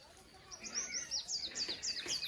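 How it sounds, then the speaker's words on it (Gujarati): Small birds chirp in a quiet village in Gujarat early in the morning: a faint series of quick, repeated high tweets, fairly regular and a little distant, with no other noise. "મસ્ત મસ્ત મસ્ત ઝીણા ઝીણા પક્ષી બધા બોલતા હોય"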